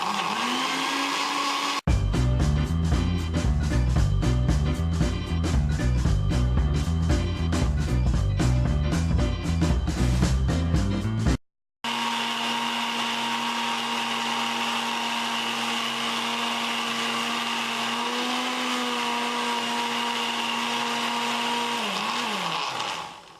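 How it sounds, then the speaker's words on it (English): A countertop blender whirs loudly while blending a thick black rice water hair conditioner with essential oils, running steadily and alone, then stopping briefly before restarting in a smoother, higher-pitched steady drone as the mixture thins. "So let's go ahead and blend it."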